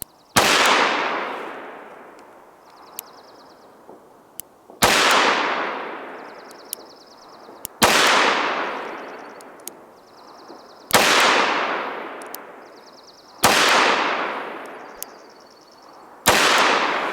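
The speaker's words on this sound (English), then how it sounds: "I'm going back to the 686. I'm going to shoot the lower left square out there." Six sharp, loud gunshots from a Smith & Wesson 686 revolver at an outdoor range, spaced a few seconds apart, each with a long echoing decay and faint clicks between shots.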